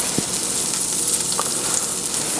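Salmon fillets frying in a pan of sweet cream butter and olive oil give a loud, steady, crackling sizzle that runs unbroken throughout, with a faint knock or two.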